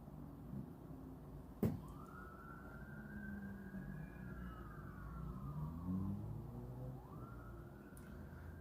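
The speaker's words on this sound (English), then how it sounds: "That's all I can hear all day, sirens." Distant emergency sirens wail with slow rising and falling tones over low traffic rumble, with a sharp knock partway through.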